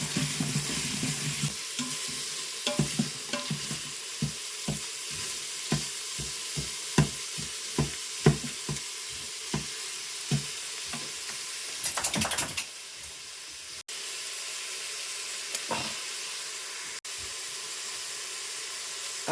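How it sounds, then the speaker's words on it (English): Chopped celery and fresh onion stirred into a sizzling pot of ramen chili, a soft sizzle under a run of regular scraping and clacking stir strokes, with a louder clattering burst near the end and no talk. "I'm gonna add the chopped celery and chopped fresh onion. Give that all a good mix."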